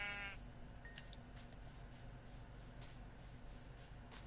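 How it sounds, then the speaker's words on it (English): A Minecraft sheep gives a short, quiet bleat at the very start, then only a faint low hum of game ambience remains. "Oh, there's another sheep."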